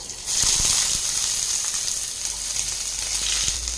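Chopped onion hitting a hot pan of oil for beetroot poriyal, a loud steady sizzle starting abruptly and holding throughout with faint stirring clicks, no talk.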